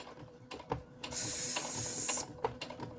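A sewing machine stitches a facing in a quiet room: a short, close run of fast mechanical whirring lasting about a second, set among soft clicks and handling knocks before and after.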